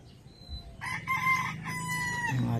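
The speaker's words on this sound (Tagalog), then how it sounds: "Yan na yung kabuuan ating munting manukan." Chickens in a small backyard coop, with a rooster crowing loudly and close by over soft clucking and faint background birdsong.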